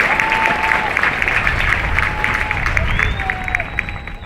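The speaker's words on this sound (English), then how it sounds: "How about we give them a round of applause?" A crowd at a Space Force basic military training graduation claps loudly and continuously, a dense roar of hands with a faint murmur of voices and a stray whistle-like tone riding over it.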